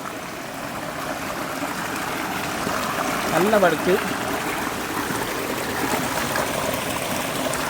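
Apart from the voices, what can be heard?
mountain stream water flowing near waterfall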